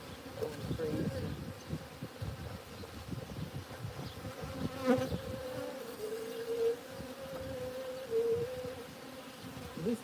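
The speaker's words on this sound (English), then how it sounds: "these bees are just going crazy" Honeybees swarm during a honey harvest, their dense buzzing hum filling the whole stretch, close and steady with slight swells as individual bees pass near.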